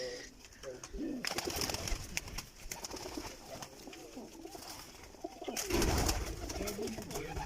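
Pigeons coo repeatedly nearby in a pigeon-keeping setup, with bursts of wing flapping and rustling as birds take off, all fairly faint against outdoor background noise.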